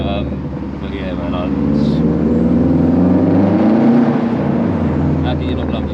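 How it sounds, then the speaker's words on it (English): Subaru Impreza WRX Hawkeye flat-four engine burbling close by, a low uneven rumble that swells in the middle, with someone talking over it. "The flat 4, Scooby Burble, Rumble, whatever you want to call it"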